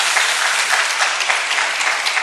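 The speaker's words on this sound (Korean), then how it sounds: "박수로 한번 격려해 주시면 좋겠습니다." A church congregation claps together in steady, dense applause during an evening worship service, a brief even burst with no voices over it.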